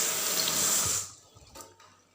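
Water poured from a tap into a pot to soak meat, a rushing stream for about a second that cuts off, followed by faint drips and clinks.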